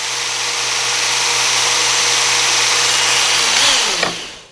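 A belt grinder runs loud and steady while sharpening a knife blade, a continuous broadband rasp with a faint machine hum beneath. Near the end it winds down, pitch falling away as the belt slows.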